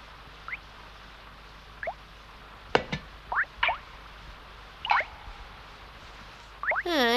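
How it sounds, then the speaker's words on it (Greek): Water drips from a leaking ceiling during rain, a handful of separate small plops and taps scattered irregularly against a quiet background, with one sharper knock in the middle. "Στάζει το ταβάνι."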